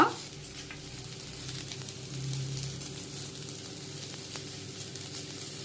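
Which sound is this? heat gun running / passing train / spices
spices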